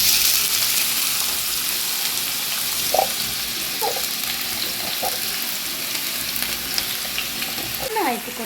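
Garlic frying in hot coconut oil in a pan while cooking mussel fry: a loud, continuous hiss of sizzling oil with a few faint clinks and scrapes of a utensil, no talking.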